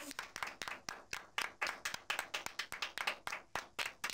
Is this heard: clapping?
yes